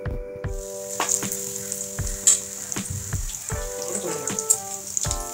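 Ripe jackfruit fritters fry in hot oil over a medium gas flame, a constant close crackling sizzle with scattered sharp pops and stirring clinks.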